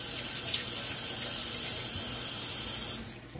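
Tap water runs steadily into a kitchen sink while hands are washed during pork stir fry preparation, a continuous close splashing hiss that cuts off near the end, leaving quieter room sound.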